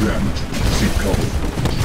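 An enemy Titan blowing up in the video game Titanfall, with dense, rumbling booms and crackling debris that fill the whole moment loudly amid ongoing battle noise.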